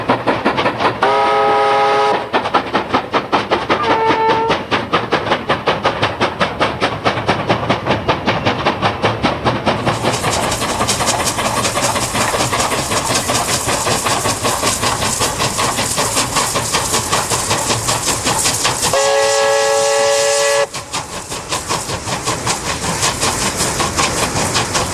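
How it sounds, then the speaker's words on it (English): China Rail steam locomotives on Jingping Pass in Inner Mongolia sounding steam whistles and air trumpets: two loud, sustained chime blasts near the start and another around twenty seconds, over continuous heavy, rhythmic chuffing and rolling train noise. "Steam whistles and air trumpets formed a once common duo along China Rail"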